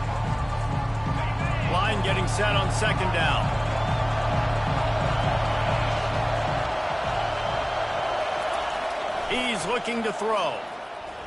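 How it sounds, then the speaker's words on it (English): A home crowd roars steadily and loudly in a Madden football video game, a dense, continuous wash of stadium noise running under play-by-play commentary throughout. "The home crowd going absolutely bananas."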